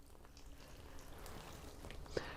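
Water sprinkles lightly over newly sown seeds in a garden bed, a soft, steady patter of drizzle close by, with no talking.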